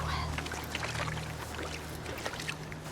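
A character in Hellblade II wades and slides off a rock into water, giving soft sloshing and trickling splashes under a low background drone, moderately close and continuous.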